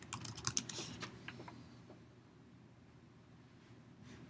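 Quick bursts of computer keyboard typing as a search is entered, a cluster of soft close clicks in the first second and a half, then a quiet lull with faint room noise.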